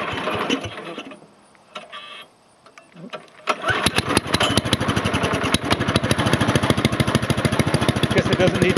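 A heavy-duty rototiller, just back from the shop, sputters and then catches. Its engine settles into a loud, steady, rapid chugging that runs continuously to the end.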